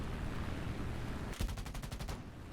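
In a flight video game, the machine guns of a P-51C fighter fire one short burst of about eight rapid, evenly spaced reports over a steady roaring engine drone, with no speech.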